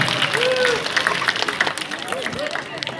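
An audience at a sea lion show claps and cheers, a moderate wash of applause and crowd noise mixed with overlapping voices over about three seconds.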